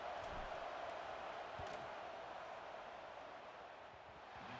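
Stadium crowd roars steadily at a college football game in Death Valley as a field goal is attempted on fourth down, a dense, continuous wash of noise with no break across the span.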